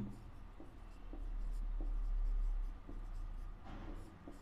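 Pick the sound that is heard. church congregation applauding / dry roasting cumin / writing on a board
writing on a board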